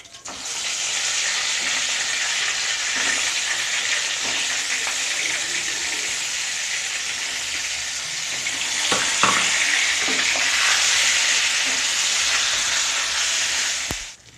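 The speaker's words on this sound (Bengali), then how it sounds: "আমি এবার পটলগুলোকে লাল করে ভেজে নেবো।" Pointed gourd (potol) pieces frying in hot oil, a loud dense hiss and crackle that holds steady for the whole stretch, with brief utensil knocks near the middle and no talking.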